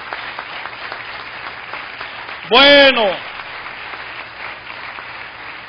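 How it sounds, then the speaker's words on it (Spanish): A church congregation claps together in one short, loud burst of applause lasting under a second, set between stretches of a voice preaching. "Rindámosle un aplauso al Señor."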